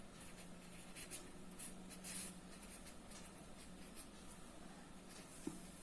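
Chalk or marker scratching across a board during a physics lecture on the Biot-Savart law, a steady run of faint writing strokes over a low room hum, with no talking.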